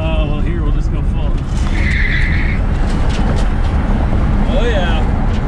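Tesla-swapped Porsche 911 at full throttle, with steady loud wind and road roar and a tire skid, and people talking over it, with no engine note heard.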